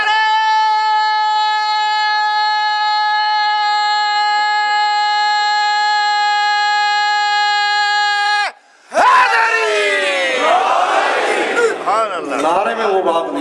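At a Muharram majlis gathering, one voice holds a long, loud, unbroken call for several seconds, then after a short gap a crowd bursts into a loud shouted religious slogan, rough and overlapping voices filling the hall.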